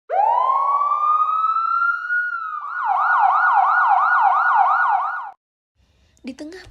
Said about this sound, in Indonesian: terdengar suara sirine berbunyi dari luar rumah